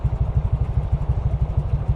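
A 125cc motorcycle engine runs during a river crossing, a steady low pulsing putter, close and fairly loud, with no speech.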